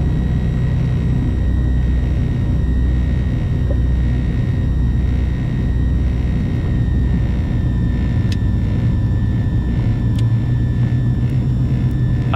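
An Aerostar aircraft takes off from a runway, its engines giving a steady, loud low rumble with a constant high tone on top, sustained and unbroken throughout with no talk.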